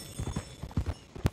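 Horse hooves clip-clop in Red Dead Redemption 2, a quick irregular run of soft thuds at moderate distance over a low background hum, with no speech.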